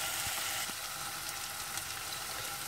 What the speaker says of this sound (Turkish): Salçayla da bir güzel kavuruyoruz